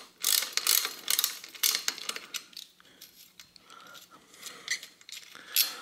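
A ratchet turning a 9 mm socket on the clamp bolt of a vintage bicycle's front derailleur, close up, gives a series of quick clicking bursts with short pauses between them.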